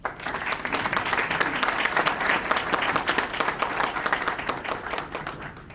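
A town hall audience in Chicago breaks into steady, dense applause that stays loud and even throughout, many hands clapping at once with no voices standing out.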